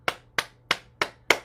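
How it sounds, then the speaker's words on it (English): Hands clapping during a morning bouncing exercise session: five sharp, evenly spaced claps about a third of a second apart, crisp and close, with no voices. "clapping our hands"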